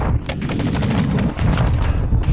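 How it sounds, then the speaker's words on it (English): A grenade blast in a first-person military shooter game, heard as loud booming gunfire-like bursts and rumbling explosions that fill the whole moment with dense low-end impact. "Grenade! Right at your feet!"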